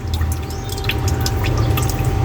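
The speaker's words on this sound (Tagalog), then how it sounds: "tutulo ang tubig." Water dripping from a loosely capped container rigged as a no-electricity water-pump substitute, small irregular drips and trickles close by over a steady low flowing rumble.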